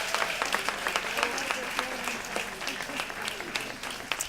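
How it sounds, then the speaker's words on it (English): An audience at the Anzisha Prize awards gala claps for a documentary series by the fellows, a lively crowd of sharp, overlapping handclaps that stays strong and continuous throughout. "So a round of applause for our work."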